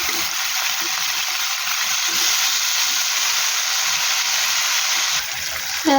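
Leafy greens (shak) frying in a pan give off a steady, loud, close sizzling hiss that carries on without a break, with faint soft scraping now and then underneath.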